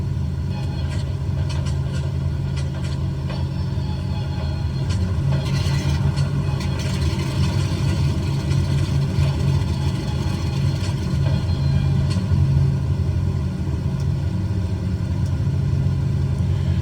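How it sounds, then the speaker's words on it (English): Right engine of a piston airliner starting up in Microsoft Flight Simulator 2020, a steady low rumbling drone that settles into a continuous idle, loud and sustained throughout with no talk. "We'll prime the right engine and start it up."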